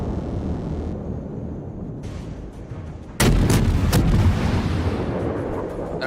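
Heavy naval gunfire from a Japanese tier II cruiser, the Chikuma, in World of Warships: a loud booming salvo breaks in partway through over a steady roar of engine and sea rumble, followed by a few sharp cracks.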